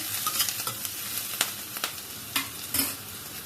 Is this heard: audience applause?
no